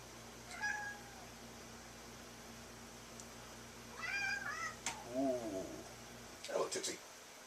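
Domestic cats meowing indoors: several short, clear meows spread through the stretch, the later ones closer and rising, over a steady background hum with no talk.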